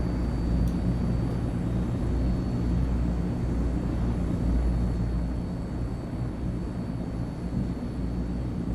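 A Transall C-160 transport aircraft in Microsoft Flight Simulator 2024 roars with a deep, steady engine and propeller drone at high speed, loud and unbroken throughout.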